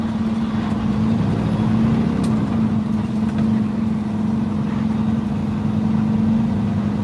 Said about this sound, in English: about we downshift here a little bit